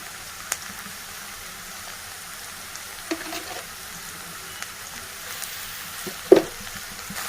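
Okra fry with ripe red chilies being stirred in a pan, a low steady sizzle with a few faint scrapes and one louder clink near the end; no talk.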